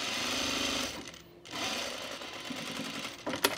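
A sewing machine stitches a homemade rug in a fast steady run, pauses briefly, then resumes, ending with a few sharp clicks.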